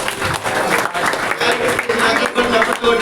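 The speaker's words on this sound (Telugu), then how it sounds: "నెక్స్ట్ ఒకసారి అమ్మాయి చప్పట్లు కొట్టండి" An audience claps steadily at a church women's fellowship skit performance, a dense, continuous wash of many hands that holds for the whole moment, with some crowd murmur mixed in.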